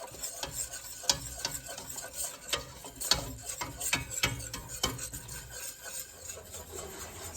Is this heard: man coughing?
no